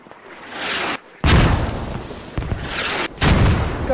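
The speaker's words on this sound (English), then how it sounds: "God, this artillery's rubbish." Artillery in the combat game British Army Simulator fires in heavy, loud booming blasts, three large bursts in quick succession with rumbling decay between them, no talk over the barrage.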